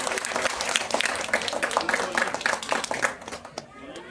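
An audience at a shayari poetry recital in Bhilai claps in a dense burst of applause that thins out and fades toward the end, with voices mixed in.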